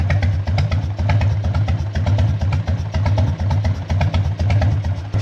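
Harley-Davidson Evo Heritage 1340 motorcycle engine idling a little slowly after an 800 km run: a loud, close, steady lumpy thump with rattling mechanical clatter and no talking.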